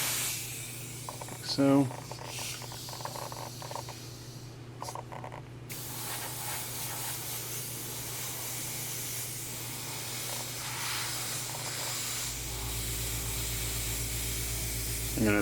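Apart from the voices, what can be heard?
airbrush spraying paint on Deadpool figure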